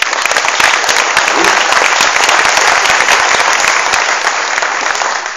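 Loud, sustained applause from an audience in a hall at a 2013 New Year's greetings event in Villeneuve-Loubet, dense clapping filling the room without letup for over five seconds.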